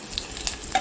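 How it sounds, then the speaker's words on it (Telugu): Garlic dropped into hot oil for chicken pakodi, a brief soft sizzle with light stirring clicks, close and moderately loud, no voices. "ఆయిల్ కాగిందండి. వెల్లుల్లి వేస్తున్నాను."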